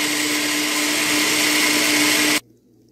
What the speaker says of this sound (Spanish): Vamos a licuar bien. Estoy utilizando la semilla de melón.